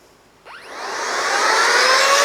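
Cordless air duster fitted with only its blower nozzle switches on abruptly and ramps up into a loud, steady, rising whine and rushing airflow, close and alone.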